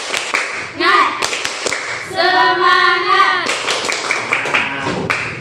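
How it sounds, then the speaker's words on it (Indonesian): Students in a classroom clap a rhythmic spirit clap together, a patterned burst of claps with a few sharp accents, while voices chant along between the claps. "Tepuk semangat."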